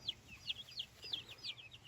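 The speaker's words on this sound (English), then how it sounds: "Life is good as a chicken." Chickens in their coop cluck in quick, repeated bursts, a series of short, fairly faint calls over a quiet background.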